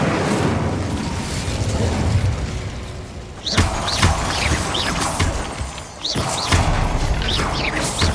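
An Incendio fire spell is cast in a wizard video game, a loud crashing, whooshing burst with quick rising swishes over dense, continuous roaring noise.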